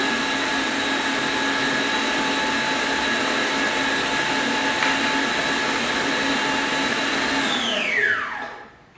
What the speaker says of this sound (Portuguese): O ponto para desligar a batedeira é quando forma esse buraco no bol da batedeira